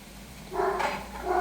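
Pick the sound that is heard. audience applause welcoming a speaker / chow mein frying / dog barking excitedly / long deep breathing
dog barking excitedly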